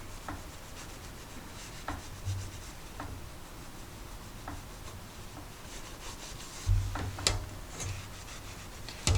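Tissue rubbing along the rough painted edges of a decorative basket, a soft papery scrubbing that comes in short repeated strokes with a few sharper scratches, close and fairly quiet.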